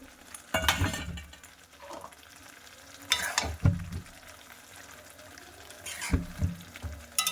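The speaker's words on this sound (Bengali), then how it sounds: "মাঝে মাঝে ঢাকা খুলে এইভাবে নাড়া দিতে হবে।" Marinated mushrooms cook in masala in a pan over low flame, a soft background sizzle broken by three separate bursts of spoon scraping and clinking as the mix is stirred.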